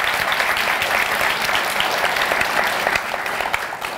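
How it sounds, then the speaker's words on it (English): A live audience at a women's Agents of Change event gives a quick round of applause for Natalie Denny, steady dense clapping filling the room throughout without pause. "let's just have a quick round of applause for Natalie Denny"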